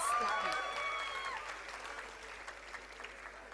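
Crowd clapping for a faculty award at a 2024 convocation, a dense patter of many hands that gradually thins and fades, heard from a distance under an announcer's voice at the start.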